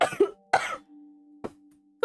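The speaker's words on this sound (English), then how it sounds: "making me have a cough attack" A coughing fit of several sharp, close coughs in quick bursts, separated by brief pauses with a faint steady hum underneath.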